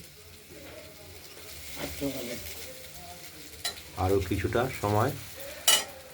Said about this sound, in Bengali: শিমের সঙ্গে রাঙা আলু দিয়ে ভাজা ভাজা করা অনেকটাই হয়ে এসেছে, সেটা ভাজা ভাজা হয়ে গেছে।